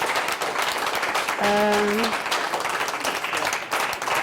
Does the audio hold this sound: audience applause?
yes